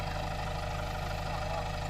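A farm tractor engine idles close by with a steady, low, rhythmic chug that holds constant throughout the short stretch, with no clear talk over it.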